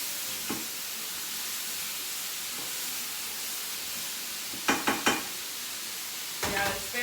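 Beef and mushrooms sizzle in a pan for a beef risotto, a steady low frying hiss running throughout, broken by a few sharp clatters from stirring near the end.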